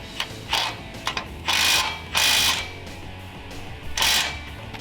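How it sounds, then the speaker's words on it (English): A hand ratchet tightens bolts on a Jeep Wrangler JL sway bar skid plate, giving close, loud bursts of rapid clicking separated by pauses and a few single clicks. "And then go ahead and tighten her back up."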